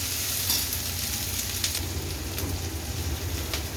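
Ivy gourd (tondli) sautéing in a pan gives a steady, close sizzle and crackle throughout, with faint stirring scrapes and no voices.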